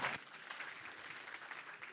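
Audience applause at a young leaders summit, a short burst of clapping from a crowd heard at moderate distance, steady and even for about two seconds.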